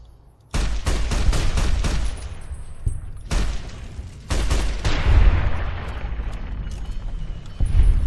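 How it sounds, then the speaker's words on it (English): Incendiary rounds are fired in the game Fallout: New Vegas: a loud, close volley of rapid automatic gunfire and booming blasts, in several sustained bursts with a rumbling tail between them. "Why did I just use an incendiary?"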